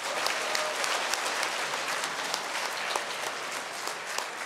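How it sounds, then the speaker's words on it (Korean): Congregation applauding at a Korean Catholic church during Sunday Mass, a full, even roar of many hands clapping that holds steady for several seconds, with no speech over it. "다시 한번 박수 한번 쳐주세요"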